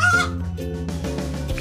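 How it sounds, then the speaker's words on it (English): Hen clucking in a short, steady run of throaty calls, loud and close, with no other sounds around it. "Hen."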